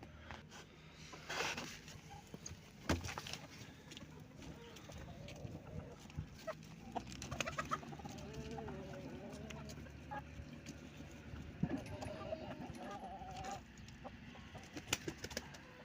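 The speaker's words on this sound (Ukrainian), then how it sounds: "Кури." Chickens cluck and murmur steadily at close range in snowy, frosty weather, with occasional louder squawks and scuffling, and no talking.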